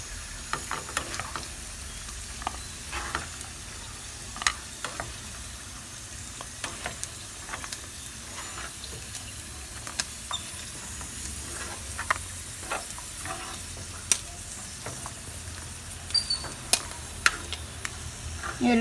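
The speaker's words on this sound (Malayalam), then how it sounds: "ഇതൊന്നും കൂടി നന്നാക്കി പൊരിച്ചെടുക്കുക." Jackfruit seeds frying in a pan give a continuous close sizzle, dotted with sharp clicks and pops and occasional scrapes of stirring, with no talking.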